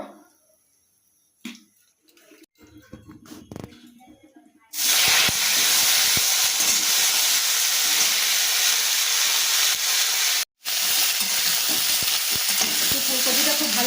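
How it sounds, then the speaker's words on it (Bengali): Cauliflower florets drop into hot oil and fry with a loud, steady, close hiss and sizzle that runs on continuously after a few quieter handling sounds, broken by one brief pause. "আমি প্রথমে ফুল ফুলকপিগুলোকে ভেজে নেবো"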